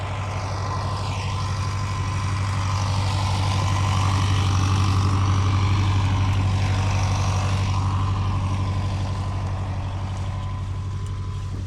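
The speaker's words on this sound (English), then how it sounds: "bringing the tractor and wagon and tubs down here" A tractor pulls a wagon loaded with tubs through a pepper field during a vegetable harvest, its engine a steady, close, continuous drone that holds through the whole stretch with no talk over it.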